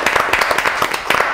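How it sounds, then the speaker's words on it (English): A small group claps for a guest chef on a vegan baking competition show, producing a short, close round of uneven, overlapping claps. "if we could get a round of applause for Chef Aaron"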